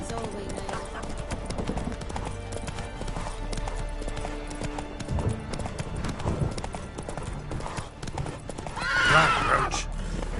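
Roach, the horse in The Witcher 3: Wild Hunt, trots with constant near hoof clatter, and a loud whinny rises toward the end, with no voice over it.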